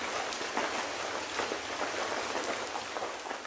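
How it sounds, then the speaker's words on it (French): Steady rain pours down without pause, a dense broadband hiss with scattered drop impacts standing out, close and continuous from start to finish. "La pluie tombait, encore et encore"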